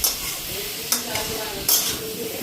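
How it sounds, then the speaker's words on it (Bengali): Spices frying in a pan at home give a steady broadband sizzle, broken by a couple of brief louder bursts of hiss as they are stirred. "আজকে একটু মশলাটা দিয়ে ভেজে নিলাম"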